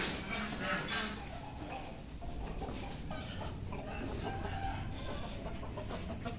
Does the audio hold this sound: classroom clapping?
no